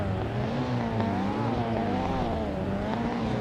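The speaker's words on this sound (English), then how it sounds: "As the engines roar to life" Ford Escort RS1600 race cars sit on the starting grid at the Nürburgring in the Assetto Corsa racing game. Several engines drone steadily with a warbling, overlapping roar of shifting revs, with no talk.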